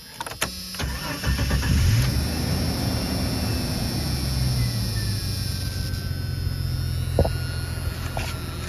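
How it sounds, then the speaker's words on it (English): A 1994 Jeep Cherokee Sport XJ with the 4-liter engine cranks briefly and fires up, then settles into a loud, steady idle close by, with a faint whine and a click near the end. "Let's do a startup."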